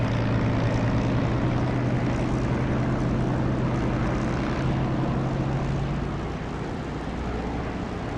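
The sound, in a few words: aircraft engine revving in DCS flight simulator video game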